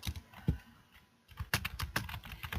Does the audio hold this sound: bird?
no